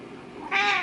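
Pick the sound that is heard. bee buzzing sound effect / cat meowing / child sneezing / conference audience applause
cat meowing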